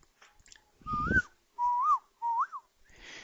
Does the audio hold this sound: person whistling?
yes